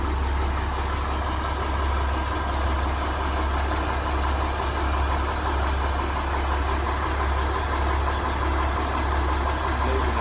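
A vehicle engine idles steadily as the driver takes it down off a very large trailer: a continuous low rumble with no changes in revving, loud and close with no talking.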